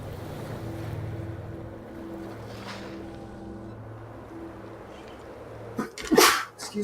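A single sudden sneeze near the end, following several seconds of a low steady hum and faint background murmur.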